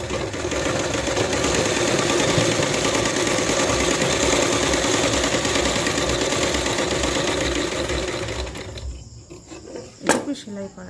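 A sewing machine stitches a salwar with a fast, even mechanical whirr that runs for about eight seconds, then stops, followed by a couple of brief clicks and rattles.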